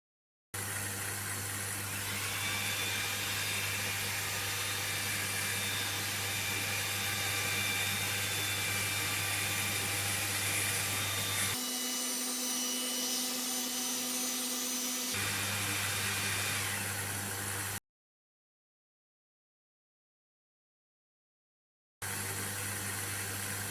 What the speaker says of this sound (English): tell us in the comments if you prefer hand cutting or laser cutting your leather for your projects